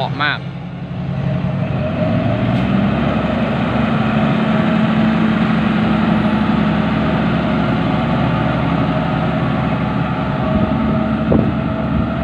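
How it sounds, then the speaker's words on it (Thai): A sand truck's engine rumbles steadily with a deep, loud exhaust drone while waiting in a queue, close and continuous with a faint click or two on top. "เสียงท่อเพาะมาก"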